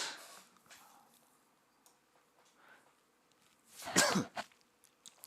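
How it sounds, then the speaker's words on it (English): A man coughs once, a dense broadband burst near the middle, with a second shorter cough right after; faint throat noise and quiet room sound come before it, and there is no talking. "I got a little bit of a cough developing here."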